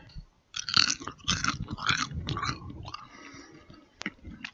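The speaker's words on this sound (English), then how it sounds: "Here's the sound of the crunch from the baked zucchini chips." Baked zucchini chips being crunched and chewed up close: a few crisp bites followed by steady, moist chewing, with no talking.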